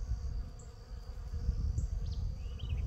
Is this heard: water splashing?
no